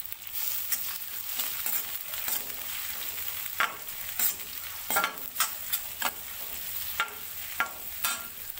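Chopped onion fries in a pan for veg biryani, a soft, fairly quiet sizzle broken by a string of sharp spatula stirs and scrapes at irregular intervals, with no voices.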